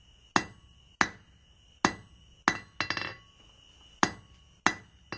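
A blacksmith hammers hot steel while forging a small fire poker from square stock, eight or so sharp ringing strikes at an irregular pace, each with a bright metallic ring and brief decay, close and alone.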